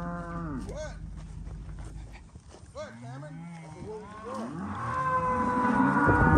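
Calves in a pen mooing repeatedly, with several drawn-out, wavering calls overlapping near and far, under occasional people talking amid general livestock-pen noise.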